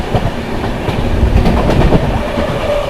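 The Jharkhand Sampark Kranti Express rolls through Aligarh Junction, with loud, continuous rumble and rhythmic wheel clatter heard from on board, and no voices.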